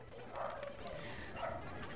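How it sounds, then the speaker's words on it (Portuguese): A dog barks in the Pokémon game GS Chronicles, giving short yipping barks in two quick bursts set in game music. "E o cachorro resolveu latir agora"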